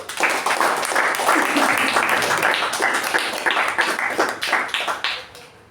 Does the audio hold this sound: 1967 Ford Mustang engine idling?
no